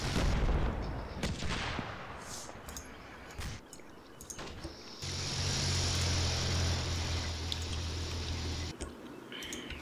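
Artillery fire in the Combat Mission Black Sea wargame: heavy booming blasts and rumbling explosions at the start, then a sustained low droning rumble with hissing noise through the back half, loud and continuous with no talk.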